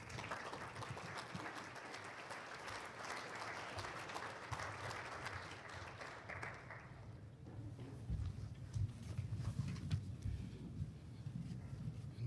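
Audience at a chamber of commerce awards gala applauding steadily, a dense sustained wash of clapping that stays even throughout, heard from within the room.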